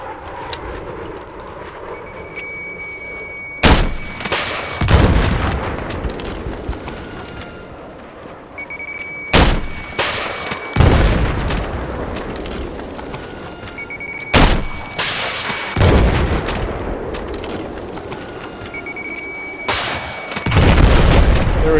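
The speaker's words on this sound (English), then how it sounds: "There we go, there's your explosion." Repeated explosions and cannon blasts on a tank video game test range, four sharp heavy booms spaced several seconds apart, each followed by rumbling decay over steady background noise.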